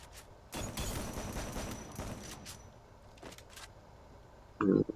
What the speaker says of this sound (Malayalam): വെടി മേടിക്കുകയാണ് ആശാൻ.